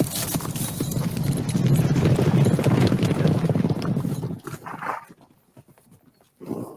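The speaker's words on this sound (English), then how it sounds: "I'm impressed that people at a fan film were able to get actual horses." Real horses' hooves clip-clop in a Predator Dark Ages fan film, a dense flurry of many hoofbeats for several seconds that thins to scattered, fainter steps with pauses.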